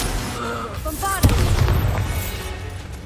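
Bombarda explosion spell cast in Hogwarts Legacy: a sharp, loud blast bursts out after a brief lead-in of tonal effects and voice-like sounds, then a rumbling tail fades away.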